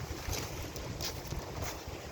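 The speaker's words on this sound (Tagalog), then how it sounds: "Yan yung bangka namin." A fishing boat's engine or hull noise drones steadily under wind and rain, a constant low rumble with no voices.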